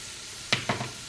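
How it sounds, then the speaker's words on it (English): Garlic sizzles as it hits a hot pan with onions while cooking Cajun Alfredo pasta with salmon, two short bursts of crackle over quiet background. "I'm gonna go ahead and add the garlic."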